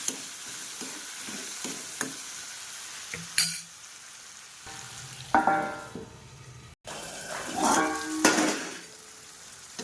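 Tomatoes cooking in a pan with garlic and turmeric, giving a soft sizzle with scraping stirs and occasional clinks of a spoon against the pan, close and moderately loud in bursts.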